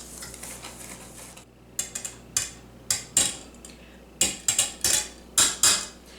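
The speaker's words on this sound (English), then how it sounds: "Now I'll probably add the dried cranberries last. I'll mix it in." A spoon stirring dried cranberries into brown sugar bread batter in a bowl: a scraping pass, then a run of sharp, irregular clinks and knocks against the bowl, up close.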